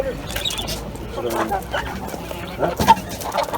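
Brahma chickens at a busy poultry market, with scattered clucks and short calls close by over a murmur of background chatter and market noise.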